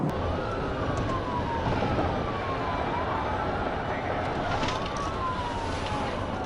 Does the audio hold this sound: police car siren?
yes